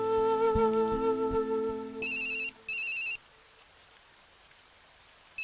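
A phone ringtone plays in two short electronic bursts after a brief melodic chime, then quiet.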